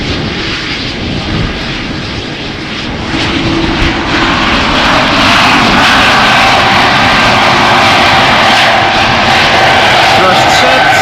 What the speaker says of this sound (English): First up, this E2 Embraer off to Hamburg